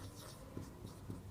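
Chalk or marker writing on a board during a Hindi grammar lesson, soft scratchy strokes in a few short bursts, faint and close with no talk over them.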